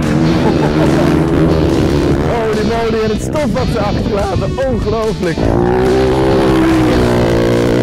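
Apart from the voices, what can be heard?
Dakar Rally race vehicles roaring past on the track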